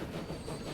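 A train in the Transport Fever 2 game slows as it brakes, giving a steady rumble of wheels on rail with a faint high squeal along the top. It is close, continuous and even, with no talk over it.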